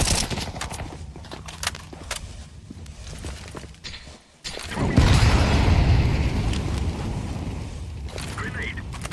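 A grenade explosion in a video game erupts partway through as a sudden loud, broad roar after a brief hush, following scattered clatter and footsteps, with chatter in the mix.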